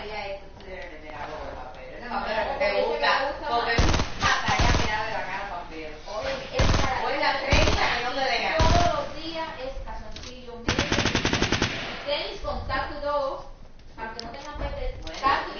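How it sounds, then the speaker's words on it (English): Video game gunfire, with the player's character being shot: rapid automatic bursts and single shots keep coming under steady talking, loud and close throughout. "He's shooting me."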